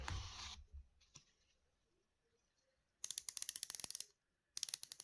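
The rotating bezel of a Sacred Crafts Dark Seas La Grande Mer carbon dive watch ratchets in two quick bursts of crisp, close clicks, with a brief rustle before and near silence between the bursts.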